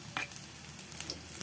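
Garlic and shallots sizzle faintly in a pan for a stir-fried winged bean and tempeh dish with shrimp paste, a soft continuous frying hiss with a light stir near the start.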